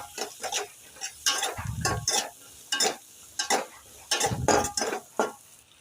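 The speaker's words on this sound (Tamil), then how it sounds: "ஆட் பண்ணிட்டு இதுவும் நல்லா வதக்கி விட்டுடலாம்." Chilli parotta masala with a sprinkle of garam masala is stirred around a pan, its spatula scraping and clattering in repeated bursts over a soft sizzle, close by with no voices.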